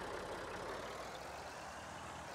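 Small tractor engine idling in Farming Simulator 19, a steady low rumbling drone that holds evenly throughout, fairly close and alone without any talk.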